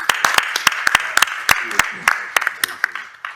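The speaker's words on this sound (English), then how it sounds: "I think Justice Mulberg deserves a round of applause for everyone here who cares about this issue." A small crowd at a panel conversation on LGBTQ+ rights claps, with sharp individual hand claps at an uneven rhythm and a murmur of voices underneath.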